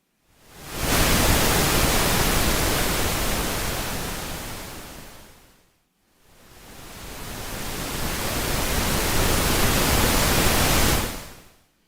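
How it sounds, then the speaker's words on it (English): Pink noise test signal plays as a steady broadband hiss for about five seconds, drops briefly to silence, then returns for another five seconds before cutting off, with no voices. "That's pink noise all the way around."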